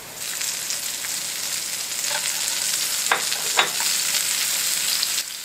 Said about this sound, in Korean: 양파와 파프리카의 숨이 죽을 때까지 볶아줍니다.